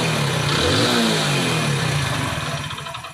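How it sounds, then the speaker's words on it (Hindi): Running engine of a Hero Splendor motorcycle with worn piston rings, loud and close, revving briefly with a rough rattling knock before easing off. "सिर्फ और सिर्फ बाइक के अंदर इंजन में साउंड आ गया है।"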